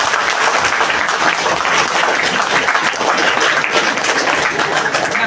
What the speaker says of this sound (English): please give me a very big round of applause